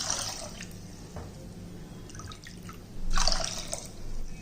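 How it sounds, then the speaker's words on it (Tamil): Water poured from a cup into a cooking pot of partly cooked horse gram, a soft trickling splash with drips, swelling briefly toward the end. "இப்போ அதே கப்பில் இப்போ 2 கப்பு தண்ணி ஊற்றிக்கிடுவோம்."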